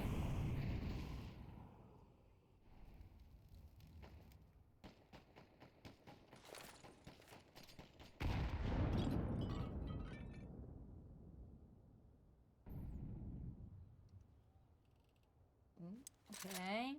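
Grenades landing and going off in a Counter-Strike esports match, heard as a series of sharp bursts and clinks, then two louder booming blasts mid-clip, with game sound effects and a caster talking throughout.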